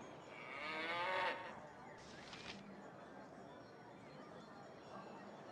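A cow in the Baldur's Gate video game gives a single drawn-out moo, fairly loud, then fades, leaving low game background noise.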